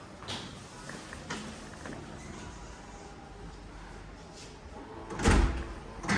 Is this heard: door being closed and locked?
yes